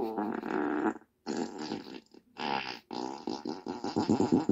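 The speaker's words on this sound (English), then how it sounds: "Here comes a serving of 80 farts." An Alexa smart speaker plays a string of loud fart sound effects in quick succession, each a buzzy, sputtering blast separated by short gaps.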